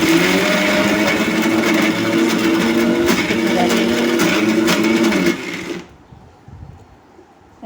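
A mixer grinder whirring loudly and steadily while blending carrot chutney, running for several seconds before cutting off abruptly into near quiet.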